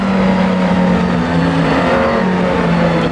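A Super GT 500 race car engine in the Assetto Corsa racing game drones loud and close, holding a sustained high-revving roar with slight pitch shifts and no pauses.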